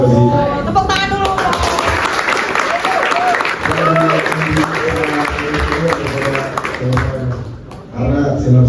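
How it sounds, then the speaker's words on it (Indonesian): An audience at a book talk claps in a dense, lively patter that runs under a speaking voice and continues for most of the stretch before thinning near the end. "Tepuk tangan dulu."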